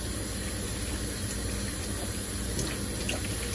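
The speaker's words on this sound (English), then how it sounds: "I'm just going to rinse this. And you can see the blue cyanotype chemistry coming off." Tap water runs steadily over a cyanotype print as the blue chemistry is rinsed away, a continuous close splashing wash with no talk.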